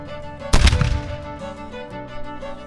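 Soldiers fire a loud musket volley at Fort Mifflin: a single sharp, booming blast close by, followed by a long echoing decay and rumble over the next two seconds.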